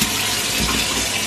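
Water gushes steadily from the tap of a gas water heater, a loud, continuous broadband rush that stays even from start to finish with no voices over it.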